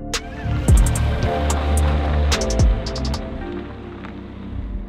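Tyre road noise from a Porsche GTS Lightweight with a manual gearbox, heard as a continuous loud rumble and hiss with a few brief sharp knocks, and no talk over it.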